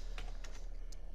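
One-handed typing on a computer keyboard, a few sparse, close key clicks spaced unevenly over a steady low hum, no talking.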